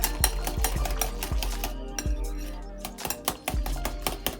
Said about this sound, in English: I'm gonna sprinkle some cinnamon powder in there. You can use as much as you like, only using a teaspoon. And just whisk that in there.